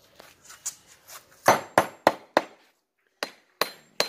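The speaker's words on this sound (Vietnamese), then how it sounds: "Có đồ búa biết to hơn thì tốt hơn, búa này hơi bé." A small hammer strikes stone embedded in the trunk of a nam điền tree, giving about a dozen sharp, ringing metallic impacts at an uneven pace, some louder and closer, with a brief pause near the end.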